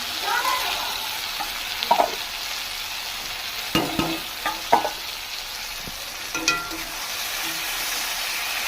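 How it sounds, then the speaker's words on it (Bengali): Fish and potatoes frying together in a pan, a constant close sizzle with scattered scraping and clinking as the food is stirred and turned, no talk over it. "একটু ভাজা ভাজা হয়ে গেল মাছটা দিয়ে একটু হালকা জল দিয়ে করে নামিয়ে নেব"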